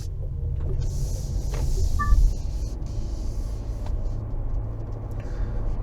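An Omoda 5 SUV pulls away at night, its engine and road noise forming a steady low rumble from inside the cabin, continuous and moderately loud with no talk over it.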